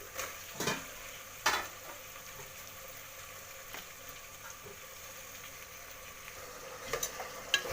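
Tomatoes frying in oil with onions in a pan for hotel-style veg pulao, a faint steady sizzle broken by a few sharp scrapes and clinks of a stirring spoon against the pan, with no talk.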